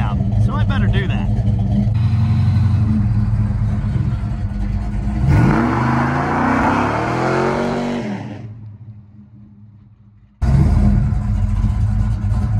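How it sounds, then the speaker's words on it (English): A 1968 Dodge Coronet 500 with a 440 engine roars through a burnout, loud sustained revving that rises and then drops away before another blast of engine noise, with a voice heard over it. "I was given explicit permission to do a burnout, so I better do that."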